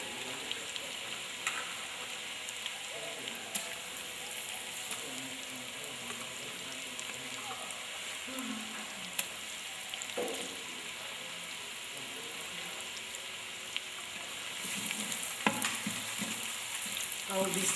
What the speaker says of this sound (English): I will be stirring this tomato paste and my mixture together